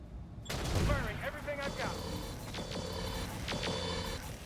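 Mech weapons fire in the RogueTech battle game: a dense fusillade of mechanical gunfire and clanking weapon bursts, repeated in several loud volleys over a steady mechanical hum, with talk over the shots.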